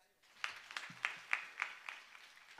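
An audience at a Hanuman Jayanti kirtan claps together in a steady, even rhythm, about eight claps, quiet and somewhat distant.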